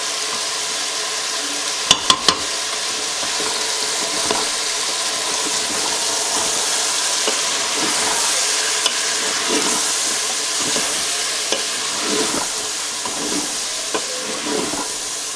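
Meatballs sizzle in a frying pan while being stirred, a continuous hiss of frying broken by soft scraping and a few sharp clicks of a utensil against the pan.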